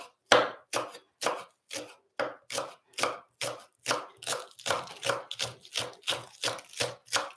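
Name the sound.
knife chopping spring onions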